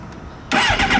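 A 2008 Suzuki GSX-R 600 motorcycle with 17,000 miles on it catches instantly after a quiet starter moment, bursting into a loud, close, rough idle for the final half second.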